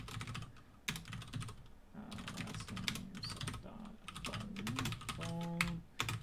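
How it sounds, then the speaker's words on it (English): Rapid typing on a computer keyboard, steady close clatter in uneven bursts with brief pauses, keys tapped continuously throughout. "Why am I typing it this way?"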